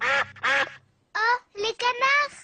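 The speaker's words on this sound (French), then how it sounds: "Oh, les canards." Cartoon ducks from Peppa Pig quack in a few short, voiced bursts, loud and close, separated by brief pauses.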